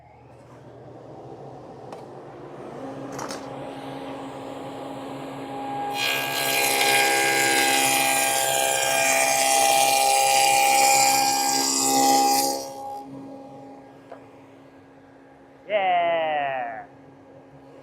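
A table saw fitted with a dado stack cuts into a board against a sacrificial fence in a workshop, a loud sustained whirring roar lasting several seconds, with someone talking before and after.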